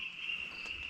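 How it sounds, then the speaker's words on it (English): Crickets chirp at night in the Shevaroy Hills, a steady high continuous trill held throughout, moderately faint with no talk. "I can hear maybe 2 species of frogs and maybe 1 or 2 species of cricket."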